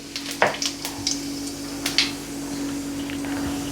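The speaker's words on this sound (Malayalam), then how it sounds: "എണ്ണ ചൂടായി വരുമ്പോഴത്തേന് നമുക്ക് 1/2 ടീസ്പൂൺ ജീരകം ഇട്ട് കൊടുക്കാം" Half a teaspoon of cumin seeds dropped into hot oil in a kadai, giving a soft steady sizzle with a few sharp crackles and pops near the start, close and fairly quiet, with no talking.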